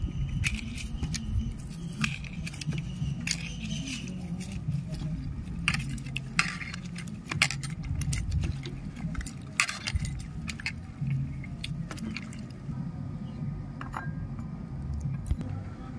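Ripe mango and soaked sago are mixed by hand with sugar and black salt in a bowl, giving a steady run of soft squelching and light clinking against the dish for about sixteen seconds.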